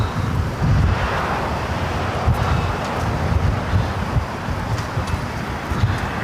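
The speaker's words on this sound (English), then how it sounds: "flight 528, A350-900 with Delta, taking off there on the north side" A Delta Airbus A350-900 airliner takes off from the north side runway at Los Angeles airport, its broad roar heard from a distance and heavily mixed with blustery wind buffeting the microphone.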